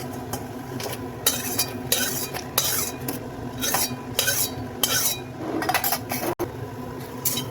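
Whole spices such as cinnamon being dry-roasted for Marathwada-style kala masala, a spoon stirring and scraping the pan in repeated clinks and scrapes, close and fairly loud, with no talking.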